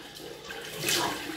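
Cold tap water running into a sink for rinsing the face after a shave, a close, steady splashing stream that swells a little partway through, with no talk.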